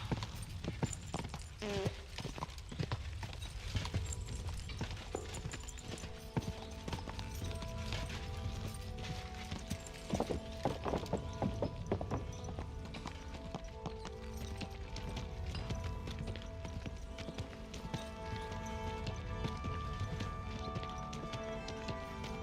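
Hooves pound in steady, rapid clip-clop rhythm as a horse gallops in Kingdom Come: Deliverance II, fairly close and continuous over a bed of ambient game noise, with no talk.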